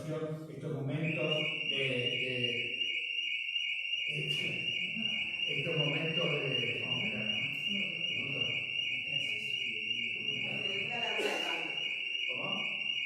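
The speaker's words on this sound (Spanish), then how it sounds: "La alarma del baño." A bathroom alarm rings continuously with a steady high-pitched electronic tone through a panel discussion, under ongoing speech from several people.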